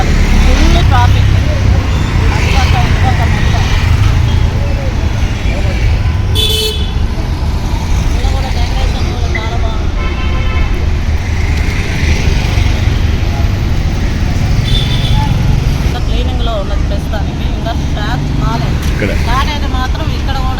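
Heavy road traffic on a busy Frazer Town street in Bangalore, with a constant roar of cars and buses, scattered horn toots, and people talking throughout.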